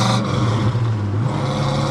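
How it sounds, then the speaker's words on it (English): A 1966 Pontiac GTO's engine and exhaust rumble steadily and close by during a test drive, a low throaty drone with the motor more prominent than the fairly quiet exhaust. "Let you hear the exhaust. It's not a terribly loud exhaust."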